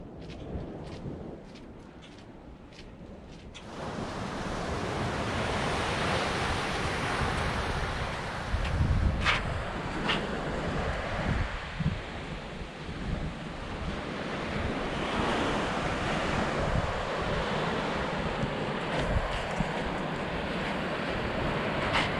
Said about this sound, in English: I know they had some big waves, I guess from one of the storms